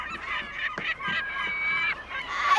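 A flock of geese honks loudly and close, with overlapping raucous calls in quick bursts and no talk.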